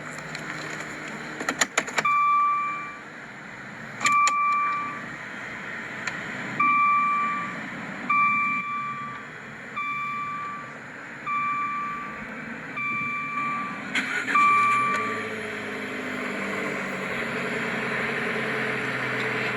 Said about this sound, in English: It's a beautiful sound from that Fiat 500 Abarth power plant.